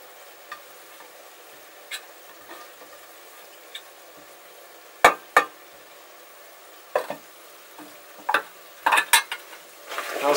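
Groundnuts being stirred through sticky sugar syrup in a pan over a fire, with scattered scraping clicks early on that grow into denser, louder bursts of stirring toward the end over a low sizzling hiss.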